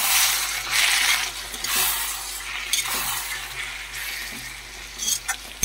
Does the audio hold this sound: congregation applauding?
no